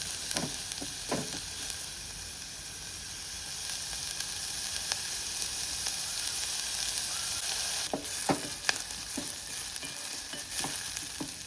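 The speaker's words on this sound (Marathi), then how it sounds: "बरो फ्राय करून घेता" Sliced onions and two green chillies fry in oil in a pan, giving a constant bright sizzle broken by occasional sharp clicks and scrapes from stirring, close and steady with no voices.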